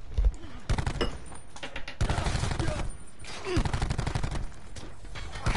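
Gunshots in a multiplayer shooter video game, several loud shots and rapid bursts close by, with a voice talking between them.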